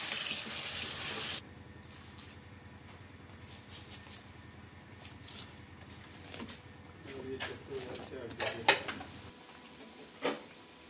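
Running tap water splashes as gandal greens are washed by hand in a sink, a strong gush at first then a softer steady flow with occasional clinks and rustles while someone talks.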